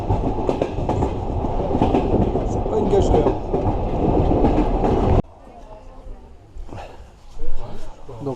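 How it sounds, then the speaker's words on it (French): A slow passenger train rolls along its rails in Armenia with a steady heavy rumble and clatter. The din drops abruptly to a quieter interior hum with a few clanks and thumps, while someone speaks throughout. "Et quand on dit que les trains sont lents"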